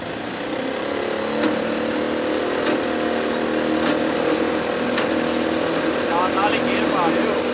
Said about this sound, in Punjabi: ਇਹ ਜੰਤਰ ਨੂੰ ਲੋ ਜੀ ਚਲਾ ਲੈਨੇ ਪਰ ਆਵਾਜ਼ ਬੜੀ ਹੋਣੀ